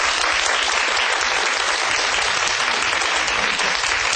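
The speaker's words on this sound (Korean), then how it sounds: "큰 박수 부탁드립니다." Sustained audience applause fills a Korean lecture hall, steady and dense throughout, after a talk on Newton, apples and cosmology by the head of the Korea Astronomy and Space Science Institute.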